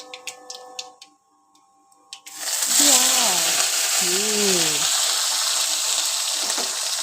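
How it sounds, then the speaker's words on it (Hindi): Chopped onion and chili hit hot oil in a pan, bursting into a loud, steady hiss that carries on after a few clattering taps. A voice briefly speaks underneath. "जब तक ये झम करके आवाज़ में आए मज़ा नहीं आता।"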